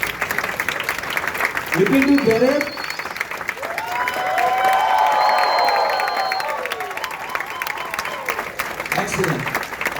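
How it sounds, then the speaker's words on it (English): Audience at a training session clapping in a sustained round of applause, with a voice talking over it and the clapping swelling in the middle before thinning out. "All right, big round of applause to them."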